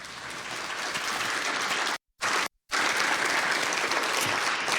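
A ceremony audience honoring award and scholarship recipients claps loudly in a dense, sustained round of applause, broken by two brief dropouts of total silence midway before resuming at full strength.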